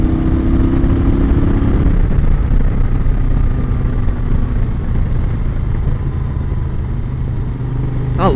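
A 1970s Moto Guzzi California Italian cruiser motorcycle engine running under load while riding, a loud, close, steady throbbing rumble with slight shifts in pitch and one brief higher squeal near the end.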